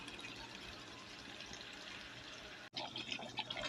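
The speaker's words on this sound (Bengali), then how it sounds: "হালকা জল দেবো" Water is poured into a pot of meat and potato curry being cooked, producing a continuous splashing pour and then a short pause followed by sizzling, bubbling liquid, fairly faint and close.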